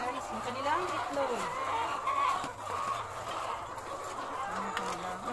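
Several chickens clucking and murmuring close by, overlapping irregular calls, with a person talking amid the flock.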